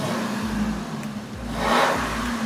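A 2019 Lexus LX 570 Black Sequence with a WALD body kit idles with a low steady hum, then gives a few short throttle blips, the last rising into a brief, louder rev.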